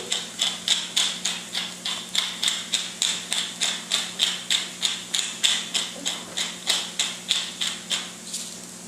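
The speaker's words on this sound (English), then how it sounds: "I like fresh pepper that you grind into it." Fresh pepper ground with a hand pepper mill over a pan while cooking asparagus soup, about twenty rapid, evenly spaced crunching clicks close up, over faint background hum.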